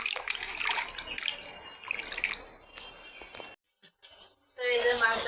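Meat being washed under running water from a tap in a home kitchen, a steady splashing stream that briefly stops and then returns, with a voice speaking over it.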